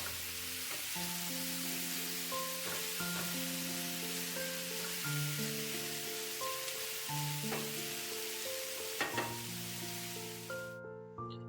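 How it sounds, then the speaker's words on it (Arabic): Chicken fajita vegetables with chicken spices frying in a pan, a steady close sizzle with occasional stirring scrapes under background music. "هلا راح احركهم مع بعض عشان يتنكه الخضار مع بهارات الدجاج."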